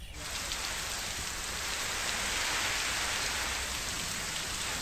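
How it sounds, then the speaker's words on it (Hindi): Heavy monsoon rain mixed with hail pours down in Jodhpur, a dense, loud, unbroken hiss of drops pounding surfaces for the whole stretch, with no voices. "तेज बारिश तो हो ही रही है और साथ में ओले भी कई इलाकों में गिरे हैं"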